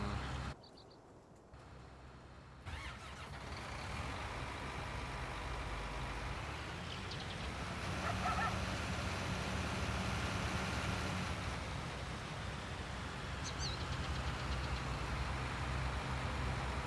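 A tractor in the farming game Farming Simulator 19 hums with a low steady engine drone, dipping briefly at the start before rolling on at an even level, distant and fairly faint with no talking.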